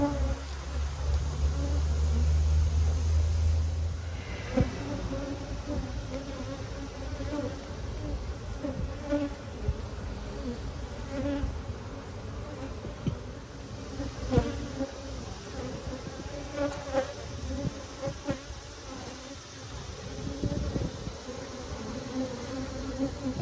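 A crowded honey bee colony in an open hive, its dense, steady buzzing filling the space, with individual bees droning close by and occasional handling knocks, while people talk quietly at times.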